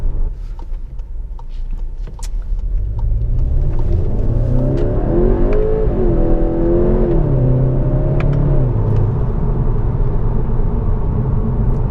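A Skoda Octavia RS 245 engine revs up loudly in manual mode and climbs in pitch, holding a strong, steady roar with the rising and falling tones of the motor.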